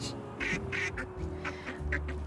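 A cartoonish duck in the video game Little Kitty, Big City gives a string of several quick nasal quacks, loud and near, over a steady low game music hum.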